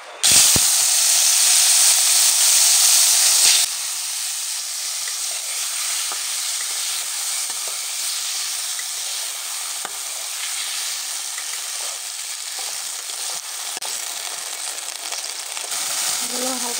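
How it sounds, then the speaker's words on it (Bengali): Fish fry loudly in a hot kadai with turmeric powder, a strong, continuous sizzle that hisses hardest at the start and then settles into a steady frying crackle. "কড়াটা যেহেতু গরম হয়ে গেছে, আমি মাছগুলো ভেজে নিব।"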